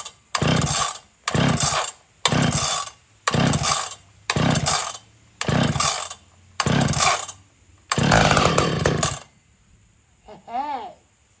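A Stihl 031AV Farm Boss chainsaw is pulled and started again and again, giving eight loud, near revving bursts of similar length, each cutting off after a second or so, then a brief high whine near the end.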